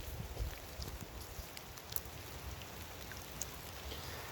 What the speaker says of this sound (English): it's raining quite some